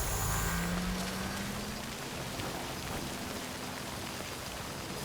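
Heavy rain pours down in the video game Death Stranding, a dense, even hiss of falling water holding steady throughout, with a faint low tone gliding downward at the start.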